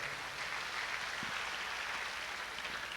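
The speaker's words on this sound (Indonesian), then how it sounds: "Berikan tepuk tangan yang berikan" Steady applause fills a church revival service, continuous and fairly full throughout with no clear voices on top.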